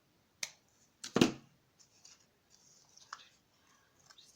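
Close scissor snips through paper while making envelopes and gift card holders, two sharp cuts in quick succession followed by a few fainter snips and rustles in a quiet room.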